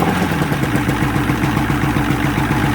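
A Johnson 115 HP two-stroke outboard on a boat just out of winter storage, running close and loud with a steady, rapid chugging pulse at idle.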